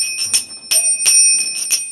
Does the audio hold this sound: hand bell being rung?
yes